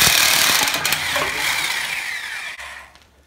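A power tool (likely an impact wrench) whirs and rattles loudly up close while removing a wheel from a Nissan 240SX, then winds down and cuts off near the end.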